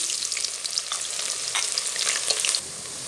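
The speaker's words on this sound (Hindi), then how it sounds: "1 कप के करीब हमने ऑयल पहले से ही गर्म कर लिया है। अब हम डालेंगे 3 अदद दरमियाने साइज की प्याज इसमें।" Three medium onions dropped into about a cup of hot oil for an aloo gosht gravy crackle and spit in a bright, busy sizzle with scattered pops, loud and close throughout, with a slight drop near the end; no speech.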